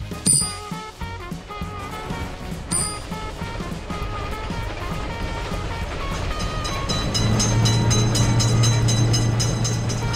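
A train runs past a road crossing with lifting gates, its steady rolling rumble and rail clatter staying loud and close, swelling toward the end with a strong low drone.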